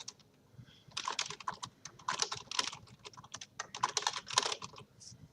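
Rapid typing on a computer keyboard, the keys clattering in irregular bursts with short pauses between them, close and fairly quiet, with no voices.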